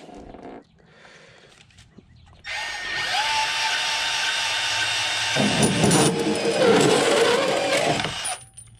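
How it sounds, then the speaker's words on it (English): Bandsaw cutting through EMT conduit, starting with a loud steady whine and rising into a louder grinding bite as the blade works through the metal tube, then stopping abruptly. "I'm gonna do it with the bandsaw."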